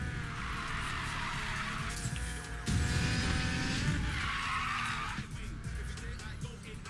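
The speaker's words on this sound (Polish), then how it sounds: "Zrobimy sobie zawody driftowe." Tires skidding and squealing during a drift in Need for Speed Payback, a sustained screech over a revving car engine, with a louder burst midway and the engine droning throughout.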